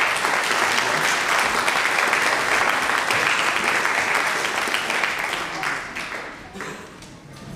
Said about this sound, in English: Let's give another round of applause for Valerie